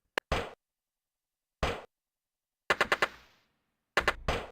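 Video game gunfire in separate volleys: a lone crack, then short bursts of rapid automatic shots with brief echoing tails and silent gaps between them.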